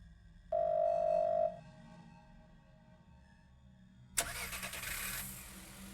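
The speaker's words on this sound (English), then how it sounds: "The sound of a car starting is coming from outside the door." A car engine cranks and starts outside a door at a clinic in the horror game Firework, bursting in abruptly after a short steady electronic tone and then settling into a rough running rumble.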